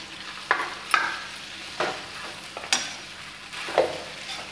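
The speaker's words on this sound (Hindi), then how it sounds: "फ्राई राइस बन रहा है" Rice is stirred in a pan while frying for fried rice, giving a steady sizzle with several sharp scrapes and clinks of the spoon spaced irregularly, close and moderately loud, with no talking.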